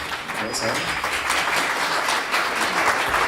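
Audience applause at a business pitch event in Edinburgh, steady clapping from a crowd throughout with some voices mixed in.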